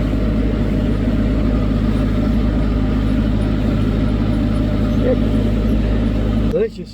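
An outboard boat motor runs during a test with a steady, loud, low drone and even rhythmic pulsing that continues unbroken and then cuts off abruptly just before the end.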